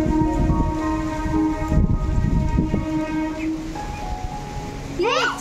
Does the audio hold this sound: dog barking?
no